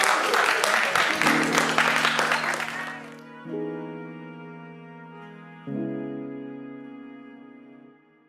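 Festival audience at the opening of a cinema festival in Mantes applauding, a dense burst of clapping for about three seconds that stops abruptly, followed by sustained tonal music.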